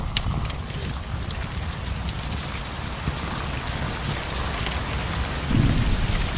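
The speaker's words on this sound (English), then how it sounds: "This turns on the rain." Steady, dense rain pours in the video game Infernium, a close, continuous wash with a deeper low rumble swelling near the end. No one speaks.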